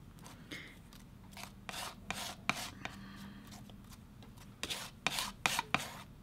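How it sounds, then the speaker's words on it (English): Palette knife scraping and scooping paint into gold texture paste, close and quiet, with a run of short uneven rubbing strokes and no talk. "I actually may even go in with my palette knife and scoop out some of that paint. And I'm just going to mix it in."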